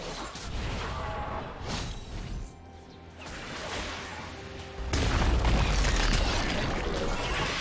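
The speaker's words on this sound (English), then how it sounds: "Team's turret has been destroyed." A turret in League of Legends is destroyed with a loud crashing boom and rumbling debris, growing louder and denser toward the end, with earlier mechanical clatter and bursts beneath.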